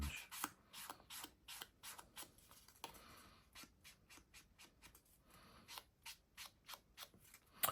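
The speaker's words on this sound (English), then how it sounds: "just gently rub over it with your blending sponge" A blending sponge rubbed over paper through a heart die stencil on a handmade Valentine's card, giving quiet, quick scratchy strokes in a steady, repeated rhythm, close up.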